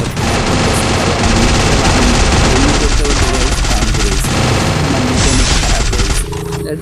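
Dense, loud gunfire in a video game match, rapid automatic bursts and booms running almost continuously over a noisy background.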